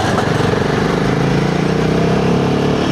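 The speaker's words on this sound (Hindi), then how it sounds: "ये सेकंड गियर का पिकअप है, डेफिनेटली इंक्रीज़ हुआ है थ्रॉटल रिस्पॉन्स लोअर गियर्स में" A Himalayan 450 motorcycle fitted with a Fuel X Pro module pulls hard in second gear, its engine note loud, close and continuous as it accelerates.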